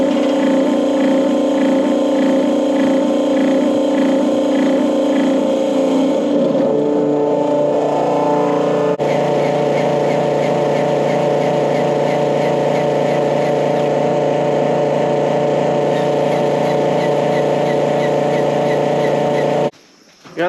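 Skid loader engine running steadily, a loud, close mechanical drone with a rhythmic pulsing clatter that shifts pitch partway through, then cuts off abruptly at the very end.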